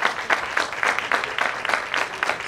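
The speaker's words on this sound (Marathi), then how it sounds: "एकदा सगळेजण उभा राहून जोरदार टाळ्या होऊ द्या सरांसाठी" An audience at a New Year celebration gives the speaker a standing ovation, brisk rhythmic clapping with pulsing bursts that stays loud and close throughout the short stretch.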